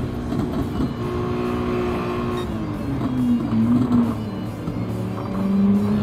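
A tiny car racing flat out in Gran Turismo 7 at around 150, its engine a steady, loud drone whose pitch slides and climbs as it accelerates on the straight, with no voices over it.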